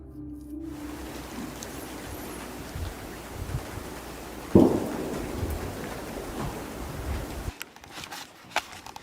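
Rain falls steadily in a foggy coastal Alaskan setting, a dense even hiss of drops with a sharp low thud near the middle and a sudden change in tone near the end, with no speech.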